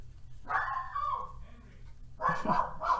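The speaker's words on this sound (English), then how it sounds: "My dog's barking." A dog indoors gives two short barks a moment apart, moderately close and alone, with a faint room hum between them.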